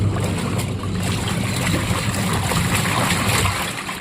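Dirty wash water pours steadily from a semi-automatic washing machine as it drains, a loud continuous gushing splash with a low rumble underneath, unbroken throughout.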